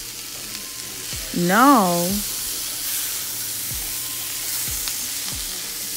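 Onions, chocho, garlic and yellow peppers fry in a pan with a soft steady sizzle and periodic scraping thumps of stirring, while a brief spoken word cuts in early on.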